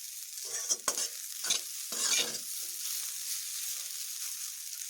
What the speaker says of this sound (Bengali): এই ডুমুর আলুগুলো আমার ভাজা এইভাবে হয়েছে